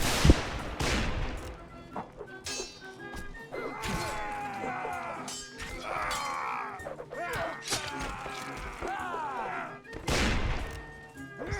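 Musket volleys crack out at a Union Army Civil War reenactment in the field, with loud sharp reports, some overlapping fire and echoing tails, and voices shouting in between.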